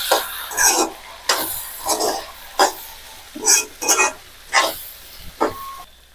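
Spoon scrapes and stirs through okra fry seasoned with chilli powder and salt in a pan, several separate bursts of stirring with short pauses between, close and fairly loud.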